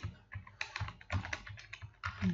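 Fingers type C# code on a computer keyboard in short, uneven bursts of soft key clicks, quiet and close, with brief pauses between keystrokes.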